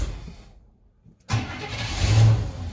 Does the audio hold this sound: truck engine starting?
yes